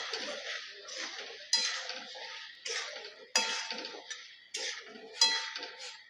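Metal spoon scraping and clinking against a pan while asafoetida is mixed into a Konkani-style jackfruit curry, in repeated close, rhythmic strokes with sharp clinks and no talking.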